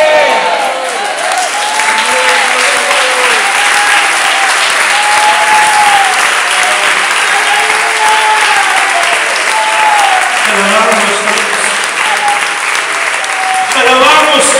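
A church congregation claps and applauds in praise, a dense, steady wash of many hands, loud and sustained throughout, with voices and sung or spoken praise rising over it.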